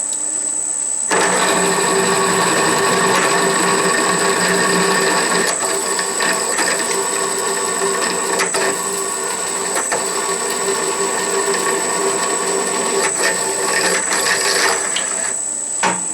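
Walker Turner drill press running on a VFD, drilling mild steel with an oiled half-inch bit: a steady mechanical whir with a high whine and faint ticking runs nonstop at close range.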